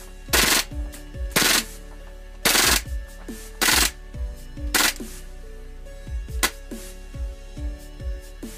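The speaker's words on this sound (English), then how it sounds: "Here you can see me using the high pressure air system that I have been using lately for the MP9" KWA MP9 gas blowback airsoft gun running on a high pressure air system, firing a series of loud, sharp bursts and single shots, close up, with clacking of the action between shots.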